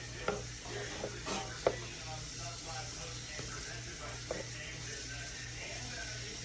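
A spoon stirs a butter roux for macaroni and cheese in a pan, a steady close scraping and swishing over a constant gentle sizzle, with a few sharper clinks of utensil against the pan and a low hum underneath.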